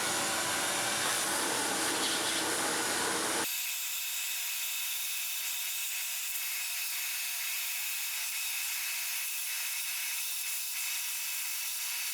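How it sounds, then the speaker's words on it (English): A vacuum cleaner runs briefly while cleaning debris around a Chevelle turbo LS engine during a tear-down, a loud close whoosh for a few seconds before cutting off to a quiet high whine. "what I'll probably do is get the vacuum out and vacuum that up a little bit"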